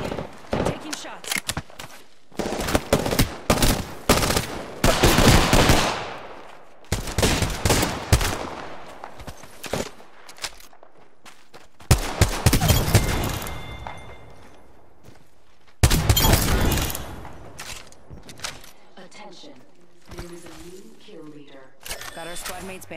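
Bursts of video game gunfire crack out in rapid, loud volleys from an online battle royale match, separated by brief lulls, while a player talks over the action.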